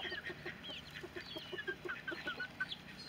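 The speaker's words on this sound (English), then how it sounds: "This mama hen and a turkey hen are actually co-parenting a couple of chicks that they hatched together." A mother hen and a turkey hen cluck softly with their young chicks on a farm, a steady run of low clucks mixed with high chick peeps close by, with no talking.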